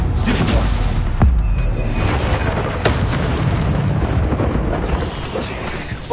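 Bombarda spell blasts in Hogwarts Legacy merge into continuous loud booming rumble, with a few sharp cracks standing out over the dense roar.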